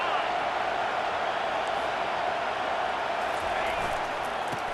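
Steady roar of a football stadium crowd cheering on the defense during a college game, a dense continuous wash of voices with no clear breaks throughout.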